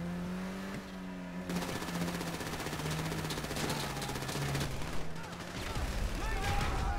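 Bursts of rapid automatic gunfire and vehicle engine noise fill a GTA V Online heist mission, crackling loudly and continuously while players talk over the action.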